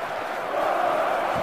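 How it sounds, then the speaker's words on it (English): A vast stadium crowd in the football game FIFA 10 roars as a steady, swelling wash of voices, loud and continuous with no distinct words. "The crowd close to the pitch makes for a good atmosphere."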